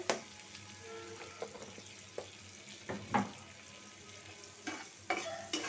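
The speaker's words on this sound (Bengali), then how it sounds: "কাঁচামরিচ আর পেঁয়াজ কুচি একটু তেল দিয়ে নিই তেল কম আছে" Chopped green chilies and onion fry in a little oil, a quiet sizzle broken by several sharp spatula scrapes and knocks against the pan, with no talking.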